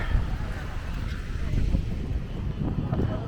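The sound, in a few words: wind noise on microphone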